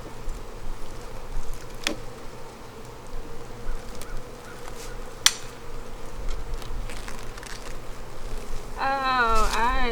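Honeybees buzz in a dense, continuous drone around an open hive during a beekeeping inspection, close and loud, with brief tool knocks and a voice briefly at the end.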